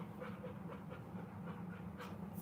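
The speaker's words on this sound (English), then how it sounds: "Sorry about the dog. I'm dog sitting right now." A dog pants in quick, steady breaths close by, fairly faint, with a constant low background hum and no talking.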